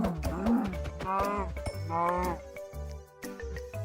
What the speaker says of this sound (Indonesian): di sini ada sapi ya. Boleh nih sapi kita pukul aja